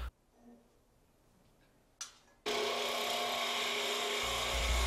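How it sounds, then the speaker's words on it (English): Wood turning on a lathe with a 3/8 inch long-angle spindle gouge, shaping the concave base of a turned box: after a quiet stretch and a brief scrape, a loud, steady, hissing cut runs continuously to the end. "I'm using again the little 3/8 spindle gouge with the long angle, cutting that clean"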